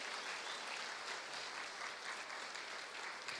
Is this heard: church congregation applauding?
yes